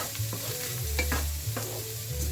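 Onions fry in a pan for Lithuanian goulash, cooked at a cabin. A steady sizzle runs underneath while a spatula scrapes and stirs in several repeated strokes, with a few knocks against the pan. Nobody talks.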